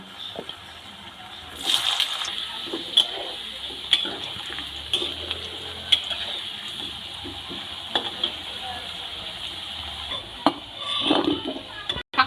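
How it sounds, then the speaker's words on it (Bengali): Oil sizzles steadily as cut potatoes fry until reddish, a soft continuous crackle with occasional clinks and stirring sounds. "ওই তেলেই কেটে রাখা আলুগুলো আমি ভেজে নেব একটু লাল করে ভেজে নেবো"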